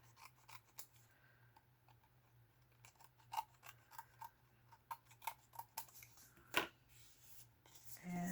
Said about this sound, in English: And then we're going to cut off the excess here.